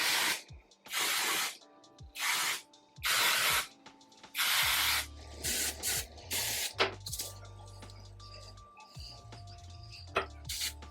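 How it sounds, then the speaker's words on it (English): Joico Ironclad heat protectant is spritzed onto relaxed hair in a series of short, crisp bursts of dry mist, separated by brief pauses, with faint handling sounds and quiet moments between sprays. "It kind of sprays like a hairspray, meaning it's a very dry spray, a lightweight spray."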